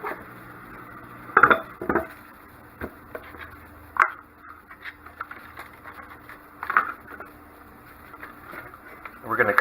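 A knife chops through celery on a cutting board, cutting off the root ends, with a few sharp, separate knocks of the blade against the board under quiet kitchen ambience and ongoing talk.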